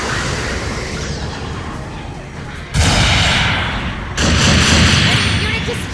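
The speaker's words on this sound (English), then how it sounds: "Long-range support fire incoming!" Long-range artillery support fire in the mech combat game Gundam Battle Operation 2 on an airbase map: two heavy, rumbling impact bursts land close together over continuous battle noise, with voices heard throughout.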